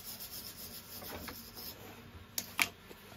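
A brush scrubs across a MIG weld bead laid with a Fronius TransSteel 2200 welder, a series of soft, rhythmic scratchy rubs, close and quiet, ending in two sharper scrapes.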